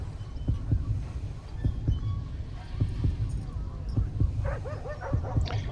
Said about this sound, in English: When you hear the heartbeat, you can draw your gun first